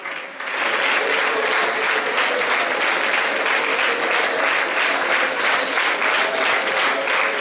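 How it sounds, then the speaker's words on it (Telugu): A church congregation claps in praise, a dense, steady applause that swells in after a brief quieter start and holds evenly loud throughout, with no distinct voices standing out. "తండ్రైన దేవునికి అందరూ చప్పట్లు కొడుతూ స్తోత్రాలు చెల్లిద్దాం"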